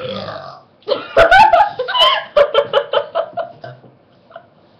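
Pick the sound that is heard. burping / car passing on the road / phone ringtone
burping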